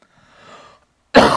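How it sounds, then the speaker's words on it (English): A single sharp cough bursts out close and loud after a faint breathy moment, alone without talk. "I'm sorry to keep coughing in your ear."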